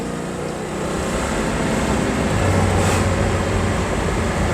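A 1966 Chevelle SS 396 driving on the road, a loud steady engine drone with road rumble from inside the car, no talk.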